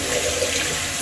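Hot water runs from a tap over a gua sha stone, a steady loud hiss and splash of flowing water, continuous throughout with no talking.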